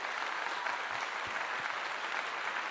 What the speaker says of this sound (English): let's give him a big clap again